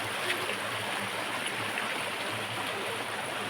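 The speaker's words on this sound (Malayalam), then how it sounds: "നല്ല അടിപൊളി വെള്ളച്ചാട്ടം പോലെ ഒഴുകണ നല്ല അടിപൊളി വെള്ളമായിട്ടത്" A stream pours like a small waterfall beside a rural village home in the evening, a loud, unbroken rushing and gurgling close by with no voices.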